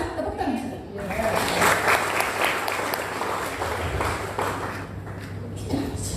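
A church congregation applauds during a Sunday service, the clapping building into a broad, steady roar from a large room, with a voice and some laughter heard underneath near the start and end.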